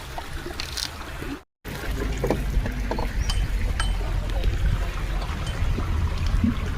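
Water sloshes and splashes over a bike during a wash, a close, continuous wet pouring and trickling with brief sharp knocks and one short gap of silence early on.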